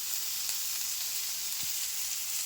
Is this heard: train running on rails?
no